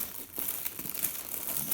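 Foil insulation for a ski boot crinkles and rustles as it is folded over by hand. The crumpling is close, dense and continuous, lasting under two seconds.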